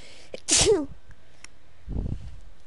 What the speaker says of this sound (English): He transferred a sneeze over to me.